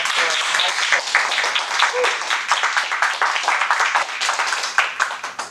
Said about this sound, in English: I think we should give another round of applause to Tabitha